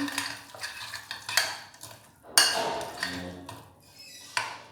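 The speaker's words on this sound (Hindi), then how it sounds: "अब इसको अच्छे तरीके से व्यूअर्स मिक्स कर लेंगे" A spoon scrapes and clinks against the pan while fish curry with salt is stirred, in close, uneven strokes with a few sharper metallic knocks over a soft simmer.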